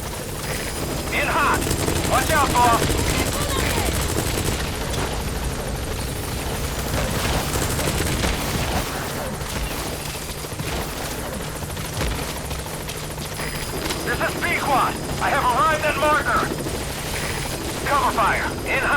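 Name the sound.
Pequod support helicopter arriving in Metal Gear Solid V video game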